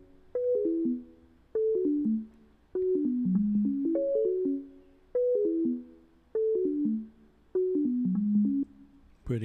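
Alchemy synth patch in Logic Pro X for an Afrobeats track plays alone: a repeating pattern of short plucked descending note phrases in regular bursts, clear and steady with brief gaps, no talk.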